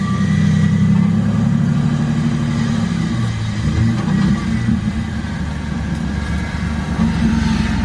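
A V6 Ford Mustang drift car idles after its exhaust leaks were repaired, a loud, steady, close engine rumble that continues alone without any talking.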